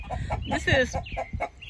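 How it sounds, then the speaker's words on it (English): Pet backyard chickens cluck in a quick, uneven series of close, fairly loud calls, with a short bit of speech mixed in. "the evil streak of my birds. They're laughing at me."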